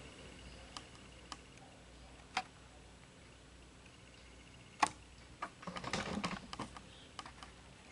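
Keystrokes on a computer keyboard while entering a search: a few isolated clicks, then a quick burst of typing near the end, close and fairly quiet with no talk.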